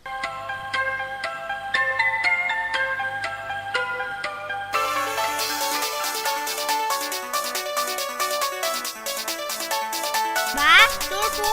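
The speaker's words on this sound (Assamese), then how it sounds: "বা তোৰ ফোন কোনে কৰিছে চাচোন।" A mobile phone ringtone plays a bright, repeating electronic melody of short tonal notes, shifting midway into a denser, fuller musical pattern, and a brief sweeping sound rises near the end.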